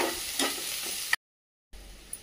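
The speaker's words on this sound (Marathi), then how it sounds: "कांदा चांगला परतून घेऊया।" Finely chopped onion sizzles and hisses in a pan over low heat. A steady frying crackle with a few stirring clinks cuts out abruptly into a short silence, then the quieter sizzle resumes.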